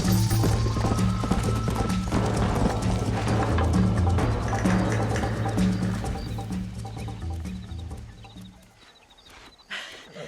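Horse hooves galloping in the Red Dead Redemption video game, a fast rhythmic clip-clop running loud for most of the stretch before thinning out near the end, with no talk over it.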